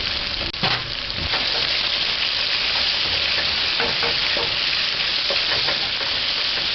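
Noodle chicken frying in a pan with curry powder added, giving a steady, loud sizzle that runs throughout with faint scraping and stirring clicks near the start.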